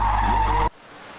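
A car skids with a loud tire squeal held for about two thirds of a second, then cuts off abruptly into near silence.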